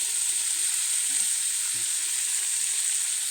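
Onions frying in hot oil in an outdoor village picnic cookpot, a loud steady sizzle with no pauses and faint low background sounds beneath.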